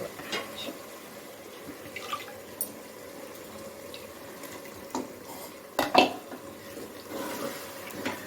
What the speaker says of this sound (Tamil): இப்போ இந்த மிக்சியை கழுவி நான் கொஞ்சமாக தண்ணி ஊற்றிக்கிறேன்